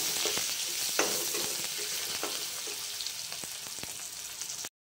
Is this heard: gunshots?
no